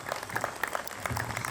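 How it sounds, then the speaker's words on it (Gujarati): An audience claps in steady, dense applause, a crackling patter of many hands at a moderate distance with no voices standing out. "બસ આ બધા તાળીઓના ગડગડાટથી બતાવો છો."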